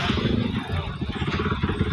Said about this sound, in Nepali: ओ माई गड, बाइक आउँदैछ हेर्नु।